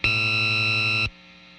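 Schroeder Blister Agent distortion pedal with its frequency knob at zero, giving a loud, steady buzzing distorted drone that holds for about a second, then cuts off abruptly to a faint hiss.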